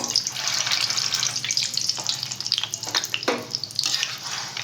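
Peanuts fry in hot oil, a steady fizzing, crackling sizzle with bubbling bursts that hold loud and close throughout, with no talk over it.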